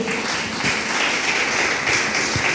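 A church congregation applauds Jesus with joy, a dense, continuous roar of clapping that fills the room from start to finish.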